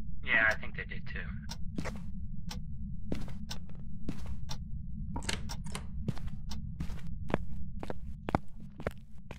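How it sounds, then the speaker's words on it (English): Footsteps on cement in the game Phasmophobia, a long run of crisp, fairly regular taps at close range with a few louder scuffs, and brief speech near the start. "it does kind of sound like I'm walking on cement"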